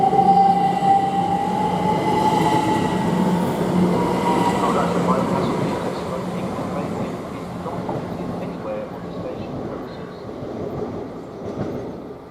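A class 387 electric train at Stevenage station on the East Coast Main Line rumbles past loud and close, with a rising whine and rolling wheel noise that slowly fades.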